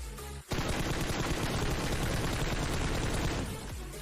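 Sustained loud gunfire in PUBG Mobile near a power plant, a dense continuous burst of automatic shots lasting about three seconds after a brief lull, with no talk.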